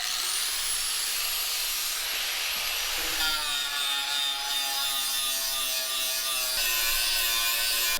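A grinder works car body metal down to bare steel, giving a loud, steady high-pitched whine with a rough scraping edge that shifts tone partway through and runs unbroken with no talking.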